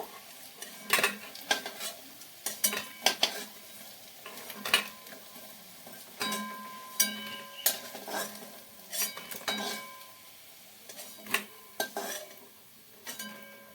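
Lentil fritters and five-spice seeds frying in a pan, with repeated clinks and scrapes of a utensil against the pan and a steady soft sizzle underneath, close and moderately loud, with no voices.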